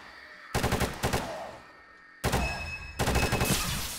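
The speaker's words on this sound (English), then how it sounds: "try and finish the cops off with the M60" M60 machine gun fire in the game 7 Days to Die comes as three loud, rapid bursts separated by short pauses, with no talking.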